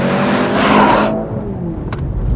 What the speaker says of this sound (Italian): tutto giù il gas, race start avvio, mollo il piede del freno e lei fa tutto da solo